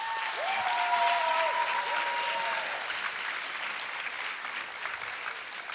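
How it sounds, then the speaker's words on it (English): A high school senior awards ceremony audience in Lorain gives sustained applause, a thick, even wash of many hands clapping at once. A few voices call out near the start. "so I want to give Natasha a round of applause"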